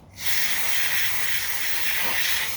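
Brake cleaner sprayed onto a Toro lawn mower during a carburetor check, a loud steady aerosol hiss that starts abruptly and runs continuously for a couple of seconds, close up with no talking.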